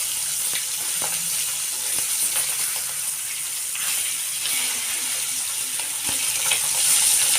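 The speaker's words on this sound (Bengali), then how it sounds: "এটাকে কোনোভাবে ভেজে নেব।" Hilsa fish pieces fry in hot oil, a steady close sizzle and crackle with a few soft clinks of turning, moderately loud and without voices.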